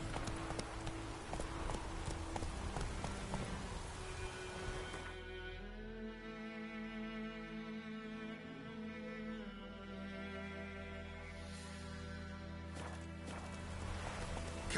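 Hooves of Roach, Geralt's horse in The Witcher video game, clip-clop at a steady walking pace, near and clear over a continuous musical score.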